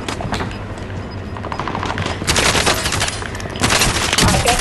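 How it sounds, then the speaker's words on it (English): Gunfire in the Call of Duty: Warzone video game, with rapid bursts of automatic shots and dense volleys that grow louder in the second half, close and harsh, with no talk. "Yeah, I heard gunshots."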